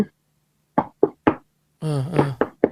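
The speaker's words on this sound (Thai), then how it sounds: "มีคนเคาะใต้ถุน" Knocking, as if someone were rapping under a raised house, comes as a single knock and then three sharp knocks in quick succession, dry and close, followed by a short spoken phrase and two more knocks.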